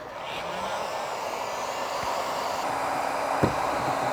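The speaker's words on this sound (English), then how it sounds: "Let's get some more heat back on that panel and start flexing." Heat gun blowing on a dented car panel, a steady airy roar held close and level throughout with one small knock near the end.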